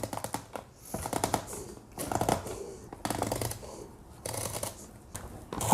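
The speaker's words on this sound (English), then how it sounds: "You twist, and I like to cut off my noodles." A handheld spiralizer blade cuts a vegetable into noodles in repeated twisting bursts of crisp scraping and crunching, each lasting about a second and separated by short pauses, fairly close.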